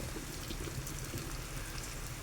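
Leftover masala-paste water poured from a small bowl into a capsicum curry makes a steady, even, hissing splash that continues without a break.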